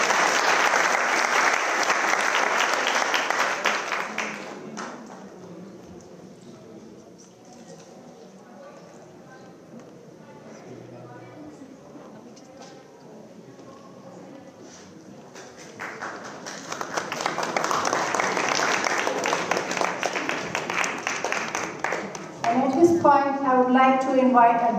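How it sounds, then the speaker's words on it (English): An audience claps loudly at a gathering, then the clapping fades while a voice speaks over a quiet lull, and a second strong burst of applause swells before the end. "Let's give them a huge round of applause"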